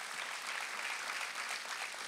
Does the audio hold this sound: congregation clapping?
yes